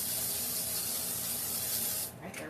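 Cooking spray hisses onto a cookie sheet in one continuous, fairly close burst of about two seconds before cutting off, followed by a brief faint rustle.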